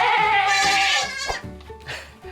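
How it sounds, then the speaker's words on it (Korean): A newborn black baby goat bleats loudly and close up, one long wavering cry followed by shorter bleats, with faint rustling around it. "저기 아기 흑염소"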